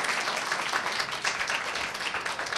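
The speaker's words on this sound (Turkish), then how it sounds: "Bir daha alkış yapın bakalım." Children in a Quran course classroom clap together, a steady, dense patter of many small hands filling the room from start to finish with no talk over it.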